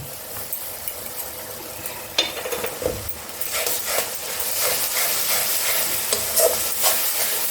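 Ginger, garlic and green chili paste fries with onions in a pan, a continuous close sizzle broken by scraping stirs and sputtering bursts that build louder toward the end.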